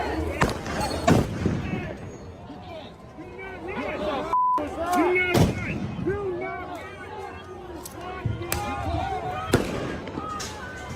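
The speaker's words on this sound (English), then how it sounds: "They are attacking cops and federal agents with explosives." Explosives or fireworks bursting during night street clashes between crowds and police and federal agents, with repeated sharp loud bangs at irregular intervals over a noisy crowd hubbub and shouting voices.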